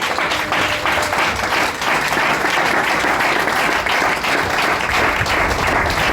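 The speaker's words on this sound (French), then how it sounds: "On peut acclamer le Seigneur." A church congregation applauding to acclaim the Lord, dense, loud, sustained clapping from a large crowd that fills the room without pause.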